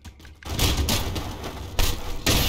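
Gunfire in People Playground: after a brief quiet start, loud rapid bursts of shots crackle and thump close up, with a couple of sharp fresh volleys breaking in partway through.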